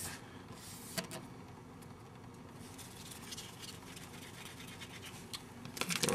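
Epoxy is stirred and blended for a hookah stem, a soft close scraping and scratching with uneven strokes, quiet and continuous, with a few louder scrapes near the start and end; no talking.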